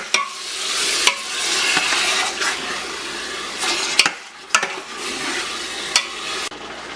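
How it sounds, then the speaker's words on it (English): Meat browning in a pot for sancocho gives a steady, loud sizzle and fry with scraping stirs and a few sharp clanks of a utensil against the pot, no voices. "And we're gonna brown it."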